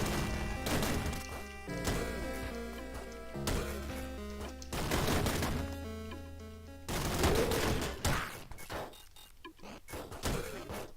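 Gunfire in the video game Downwell crackles in rapid bursts and crashing blasts over layered game music, with loud, dense stretches separated by short pauses.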